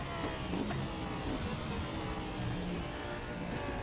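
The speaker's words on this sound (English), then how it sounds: "the suspension sounds and road noises, while very well done, are a touch repetitive after a while" An ADAC Audi race car at the Sachsenring in the Raceroom sim gives a steady engine drone with repetitive suspension and road noise, with no talk.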